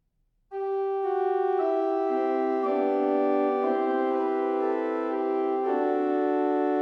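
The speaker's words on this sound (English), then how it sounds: "here is what the principal or diapason sounds like" Principal or diapason stops on a pipe organ sound a sustained, clear chord entering after a brief silence, with notes shifting slowly in a legato progression, full and steady with no voices.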